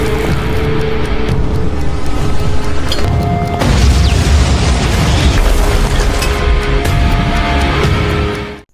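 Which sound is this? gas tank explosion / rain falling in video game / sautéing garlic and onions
gas tank explosion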